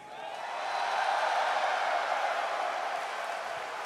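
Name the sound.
stadium crowd cheering for Team Radiant at Dota 2 tournament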